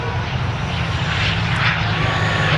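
Aer Lingus airliner taking off at Manchester Airport, a loud sustained engine roar with a steady low rumble and broad hiss holding throughout, no talk.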